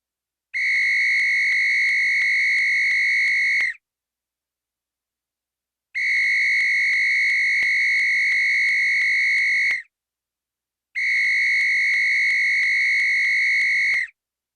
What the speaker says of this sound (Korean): 살려달라고 호루라기를 부는 겁니다.